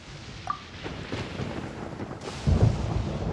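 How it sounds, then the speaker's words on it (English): A thunder attack in the Genshin Impact video game rolls in as a long, rumbling storm-like roar that builds and swells near the end, heavy and close with no talking over it. "Paimon used thunder!"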